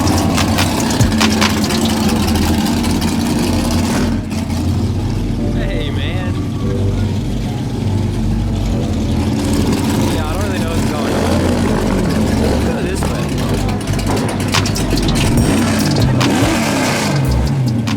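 Several Nissan GTR cars idle and rev on a street, a loud, continuous engine rumble with occasional rising revs, and voices talk over it.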